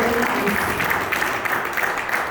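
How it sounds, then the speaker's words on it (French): Applause from an audience at a Sunday youth conference, honouring the pastors and their wives, a steady dense clapping that fills the room, with some voices mixed in. "nous acclamons très fort pour leur vie"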